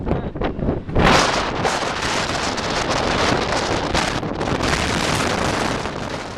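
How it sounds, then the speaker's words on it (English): Strong coastal wind on Scotland's NC500 route buffets the microphone in a loud continuous roar with gusty surges, filling the whole stretch with no voices. "So windy."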